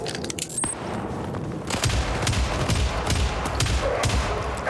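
Rapid, heavy gunfire from the video game Syndicate, a sustained burst of automatic shots firing in a steady rhythm, loud and close, with a few scattered cracks before the main volley.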